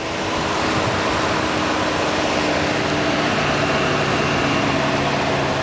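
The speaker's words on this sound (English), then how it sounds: "You can hear the fan winding down right here" A 2017 Chevy Tahoe highway patrol SUV with the 5.3 liter engine, its cooling fan sending out a steady broadband whoosh that fills the space at even loudness and does not plainly fade away.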